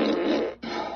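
A wet fart sound effect played by an Amazon Echo Dot with Alexa, a loud, close, buzzing blurt that breaks off briefly and then sputters on, with no talk.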